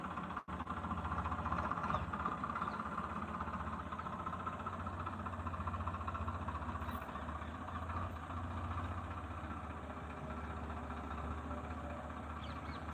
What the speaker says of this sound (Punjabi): ਇਧਰ ਭਾਜੀ ਹੁਣੀ ਟਰੈਕਟਰ ਜੋਤ ਲਿਆ